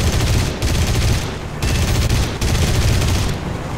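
Aircraft machine guns firing in bursts in War Thunder arcade air combat, loud sustained rattling volleys broken by short pauses.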